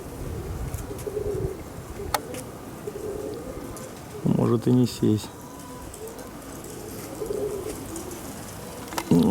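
Pigeons cooing outdoors in strong wind amid steady wind noise, with a short burst of repeated coos in the middle, while people talk nearby.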